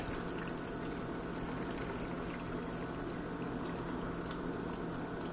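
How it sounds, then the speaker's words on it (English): Water pouring into a blender holding chopped San Pedro cactus, a steady, even rushing gush that runs unbroken from start to finish, with no talk over it. "Throw some water in there."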